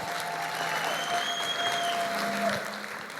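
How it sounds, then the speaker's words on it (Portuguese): Church congregation applauding steadily for about three seconds, a dense wash of clapping with faint musical tones carrying through, tapering slightly at the end. "Dê o melhor aplauso que você pode dar a Jesus!"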